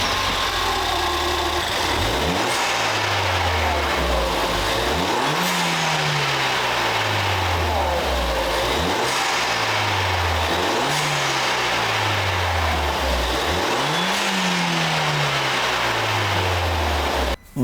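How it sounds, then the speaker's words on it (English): A Ford Fiesta ST fitted with an induction kit revs repeatedly, the engine climbing sharply from idle and falling back in four or five loud, close blips with idle rumble in between. "give it a few revs to hear what it sounds like"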